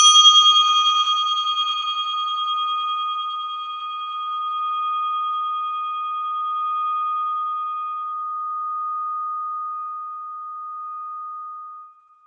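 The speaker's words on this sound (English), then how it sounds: "place your attention on the sound of this Tibetan bell" A Tibetan bell struck once, its bright ringing tone sustaining and slowly fading away over about twelve seconds, clear and alone in silence.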